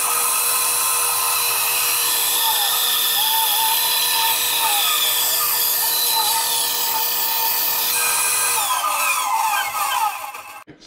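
Small high-speed rotary power tool grinding material away from a homemade wooden kitchen scoop, a loud continuous whine with shifting pitch as it bites, running steadily before winding down at the end.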